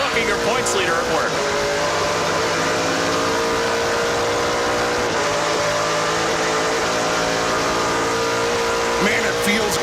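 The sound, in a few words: NASCAR Pinty's Series race cars on track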